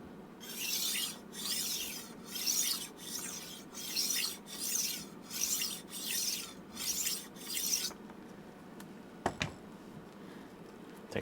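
Tumbler knife sharpener taking the burr off a knife blade: about nine even rhythmic rasping strokes, close and steady, then a pause and a couple of brief light knocks.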